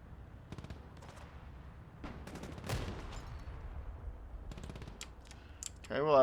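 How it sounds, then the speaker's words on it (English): Rockets and gunfire striking a BMP in Broken Arrow, heard as scattered bursts of automatic fire and impacts, moderately loud, with a brief electronic sound at the end. "they immediately start flinging rockets at the BMP"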